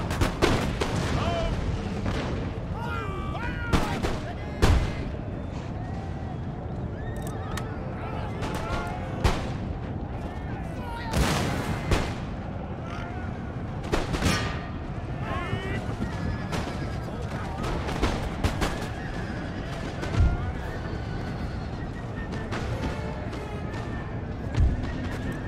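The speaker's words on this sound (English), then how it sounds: "But one good thing is that we will have fire by rank" Militia volleys of musket fire by rank in Empire: Total War crackle repeatedly across a battlefield, with sharp recurring bursts over a busy din of horses and soldiers, under occasional talk.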